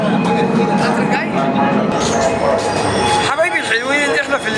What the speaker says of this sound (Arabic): القطر جاي